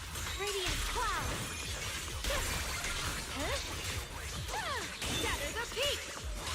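Radiant Cloud skill effect in a video game, heard as a steady barrage of shattering crashes and thwacks with swishing sweeps. Several sharper hits stand out over the dense, loud combat mix, and game voices sound beneath.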